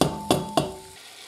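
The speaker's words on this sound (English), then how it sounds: "Fry the onions off on a medium to high heat" Onions frying in olive oil in a pan on medium-high heat, three sharp stirring scrapes in quick succession over a soft sizzle that fades away afterward.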